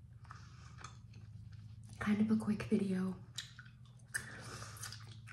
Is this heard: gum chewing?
yes